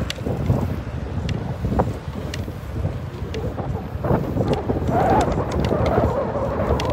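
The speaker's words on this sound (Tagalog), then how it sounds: "Mahangin, no?" Strong outdoor wind buffeting the microphone on a walk to a metro station in Qatar with a folding bike, a loud continuous rumble with gusts, and faint voices underneath.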